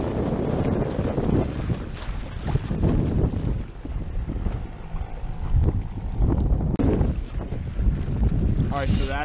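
A small sailboat moves across Lake Manitou in the wind, with heavy wind buffeting the microphone and water rushing and splashing close by throughout.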